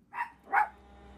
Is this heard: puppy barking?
yes